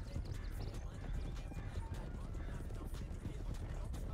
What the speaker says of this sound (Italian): Vada Bianco, spinga questo cavallo